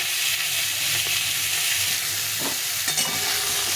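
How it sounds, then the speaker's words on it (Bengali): Pieces of pointed gourd (potol) fry in oil in a pan with a steady, close sizzle, and a couple of brief stirring clacks are heard, with no talking. "এই তেলে আমি পটলটা ভালো করে ভেজে নিই।"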